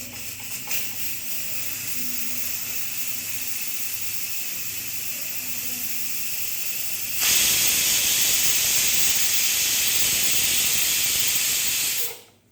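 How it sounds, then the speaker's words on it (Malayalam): A pressure cooker on a stovetop, cooking a rice dish with rock salt, lets out a loud, continuous steam whistle and hiss that surges midway and holds for several seconds before cutting off abruptly, over a softer steady hiss beforehand. "ഒരു ബിസിലടിച്ച് സ്റ്റവ് ഓഫ് ചെയ്യാൻ"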